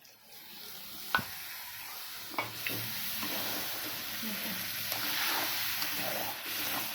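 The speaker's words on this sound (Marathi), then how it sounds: "छानपैकी आता परतून परतून घ्यायचं आहे" Mango sheera stirred and sauteed in a pan after mango pulp and a little milk are added, a low steady sizzle with a couple of sharp spoon knocks and soft scraping strokes, quiet and without speech.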